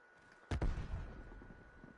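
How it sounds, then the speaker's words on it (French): A frag grenade detonates in Call of Duty Cold War: one sharp, loud blast followed by a quick second crack and a fading rumble over faint background game noise. "Je lance une frag."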